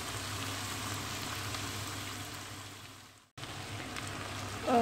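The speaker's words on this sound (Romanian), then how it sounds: "Și voi lăsa să se călească puțin și ceapa împreună cu usturoiul." Bacon, onion and garlic sautéing in a pan, a steady close sizzle that fades briefly, cuts out for an instant, then resumes with a light clatter at the end.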